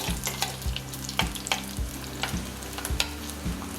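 Shallots, garlic and ginger sautéing in a pan for Kerala fish curry, with a steady close sizzle and regular scraping stirs about every half second, and no voices.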